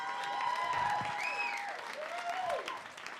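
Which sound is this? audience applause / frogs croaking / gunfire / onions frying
audience applause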